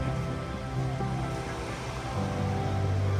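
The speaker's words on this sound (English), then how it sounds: "Me and Silje took a little stroll on the beach to watch the beautiful ocean" Caribbean ocean waves washing onto a beach in the British Virgin Islands, a steady broadband roar of surf with a gentle swell partway through, close and continuous with no voices.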